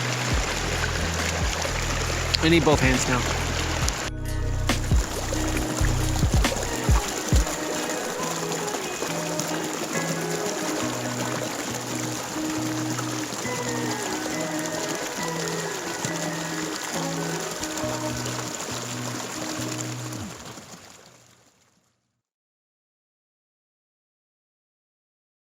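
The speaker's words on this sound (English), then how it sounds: "Oh, look at this water." A mountain stream above 10,000 feet flows steadily with a constant rushing, trickling wash, moderately near, while a person speaks briefly and handles gear before the sound cuts off.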